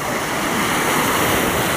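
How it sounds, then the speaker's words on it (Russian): Black Sea waves washing onto the shore near Odessa, a loud, continuous roar of surf with wind buffeting the microphone and no voices. "Мы с вами на берегу Черного моря"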